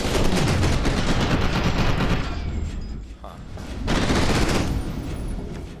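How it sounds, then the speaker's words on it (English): Dense rapid gunfire from the video game FEAR 2 crackles loud and close, pausing briefly midway before the shooting bursts back in, with speech mixed over the shots. "The guns all sound really good."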